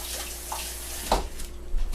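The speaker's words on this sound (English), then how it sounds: "You can rinse everything in a little cool water." Cool tap water runs into a kitchen sink to rinse chopped onions, a soft steady splash with a brief louder gush partway through, no one speaking.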